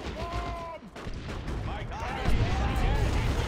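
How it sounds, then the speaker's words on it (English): Rapid shotgun blasts and grenade explosions from a Dawn of War 2: Retribution battle, crackling bursts and booms piling up over several seconds, with someone talking over the din throughout. "Shotgun blasts and grenades going down on these shooter boys."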